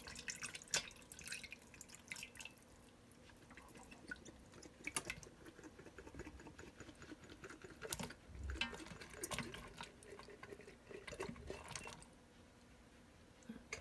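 A jar of pepperoncini with its liquid is tipped into a cooking pot for a keto Mississippi pot roast, giving soft close drips, splashes and wet squishing noises over several seconds, with no talk.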